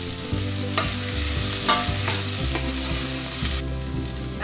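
Finely chopped carrot and cabbage stir-frying in a pan, with a continuous sizzle and repeated scraping stir strokes close by. No one speaks.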